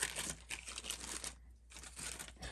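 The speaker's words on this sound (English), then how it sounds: "I'll just use a plastic bag." A plastic bag crinkles and rustles up close in rapid bursts, with a brief pause partway through before the crackling resumes.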